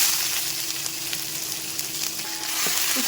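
Ginger garlic paste and cumin fry in a hot pan with a steady, dense sizzle and a faint stirring scrape, heard alone and fairly loud throughout.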